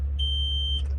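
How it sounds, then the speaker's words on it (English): An alarm on a 1997 Peterbilt 378 truck gives one sustained high beep, followed by a couple of short chirps. Beneath it runs a constant low idle rumble. "sorry about the beeping on the truck."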